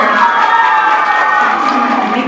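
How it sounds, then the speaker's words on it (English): A crowd of schoolchildren and adults applauds and cheers at a school D.A.R.E. graduation ceremony, a dense, steady wash of clapping with shouting and raised voices running throughout. "let's give a big round of applause to Officer Welty."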